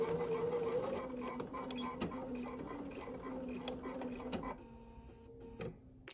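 A sewing machine stitches a patriotic placemat made with bandana fabric, giving a fast, fairly faint rhythmic ticking that runs steadily, then slows and stops near the end.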